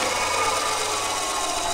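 Continuous harsh, high-pitched grinding of a power saw cutting aircraft fuselage parts, steady and loud throughout with no pauses or talking.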